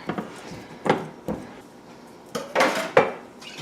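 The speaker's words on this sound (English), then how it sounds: "But just cut in the butter or the shortening or whatever you're using." Butter or shortening worked into biscuit dough with a pastry cutter in a bowl, a series of irregular clunks and scraping knocks of metal blades against the dish, fairly close and with no talking.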